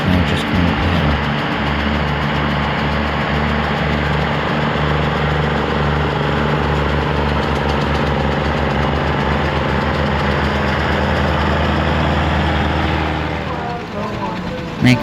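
Scammell heavy haulage tractors run their diesel engines at a steam rally, a steady deep rumbling idle with low throbbing that holds loud and close before easing slightly near the end, with voices in the background.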